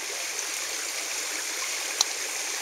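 Steady broadband rush of a nearby creek flowing, continuous and even throughout, with one brief faint click near the end.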